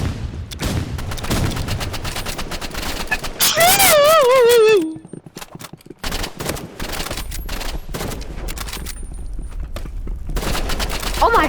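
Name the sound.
sniper rifle gunfire in the video game Rivals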